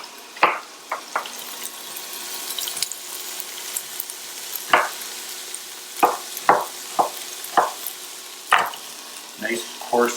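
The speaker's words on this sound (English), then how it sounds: "Added a little bit of olive oil and get these vegetables starting to saute." Vegetables sautéing in a little olive oil for bean and ham soup, a low steady sizzle broken by frequent sharp knocks and scrapes of a utensil against the pan, close by.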